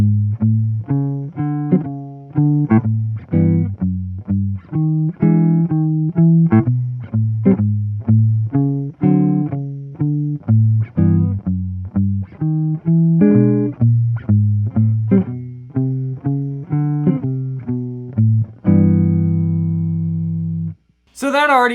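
Jazz guitar chords over a walking bass line in a 1-6 progression, with chords falling on the downbeat or pushed to the and of one, plucked steadily and up close for about nineteen seconds before a held final chord.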